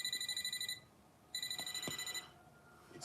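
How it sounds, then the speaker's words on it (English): A phone ringing with a rapid electronic trill, two bursts separated by a short pause, fairly close and clear with no voices. "Then my work phone rang."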